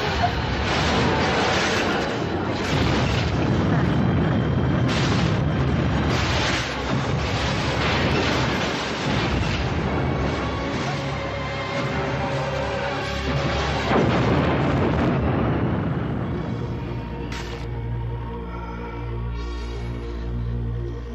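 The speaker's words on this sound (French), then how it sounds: "Attention, attention. Explosion imminente." A sci-fi film explosion effect: a long, loud, rumbling roar that stays dense and booming for most of the stretch, then thins into lingering low tones and a fading hum.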